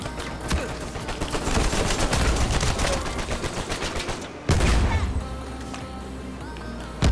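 Rapid automatic AK rifle fire in an Uncharted 4 multiplayer match, a dense, loud stream of shots with a brief pause, then a sharp renewed burst and continuing crackle.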